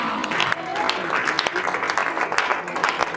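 Church congregation applauding, a dense patter of clapping at moderate level, with voices and shouts mixed in throughout.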